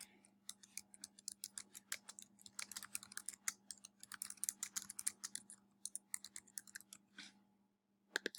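Quiet computer keyboard typing in irregular bursts of close, crisp key clicks, pausing briefly near the end before a final few taps, with a faint steady hum beneath and no talking.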